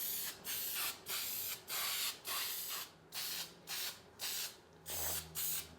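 Ceramic engine enamel sprays from an aerosol can onto Ford truck valve covers in about eight short, even hissing bursts with brief gaps between them, close and steady, with no talk.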